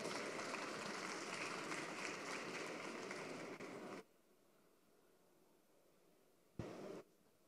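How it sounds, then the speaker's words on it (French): Audience clapping for panelists invited on stage at a talk on building reconversion, a dense burst of applause that cuts off abruptly midway into quiet, followed by a short thump and noise. "Merci de les applaudir, s'il vous plaît."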